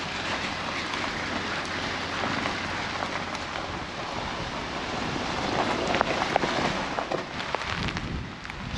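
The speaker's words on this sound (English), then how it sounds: "Starting to sleet again, heavy sleet." Heavy sleet falling outdoors at an old gold ore mill, a dense continuous patter and hiss with scattered sharp ticks of pellets striking surfaces, mixed with wind rumble, growing slightly more intense toward the end.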